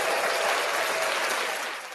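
Audience applause greeting a guest speaker at a show, dense steady clapping from a sizeable crowd that fills the space, nearby and loud, easing slightly toward the end.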